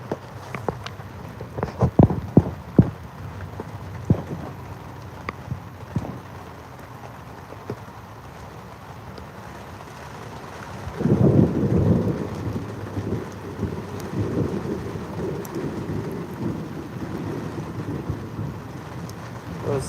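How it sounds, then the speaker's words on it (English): Thunderstorm with rain and strong wind aboard a sailboat: sharp thunder cracks early on, then steady rain pounding with a louder gusty surge near the middle that carries on to the end, close and full, with no talk. "Just waiting out a bad storm on a sailboat."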